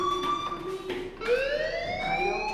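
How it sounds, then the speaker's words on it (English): A blaring electronic fire alarm in the game Life is Strange, a steady tonal wail that shifts pitch partway through, loud and close with no talking over it. "do you hear that fire alarm?"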